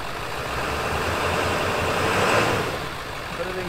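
A truck engine running steadily at idle, a broad even rumble with no clear start-up surge, close and continuous throughout.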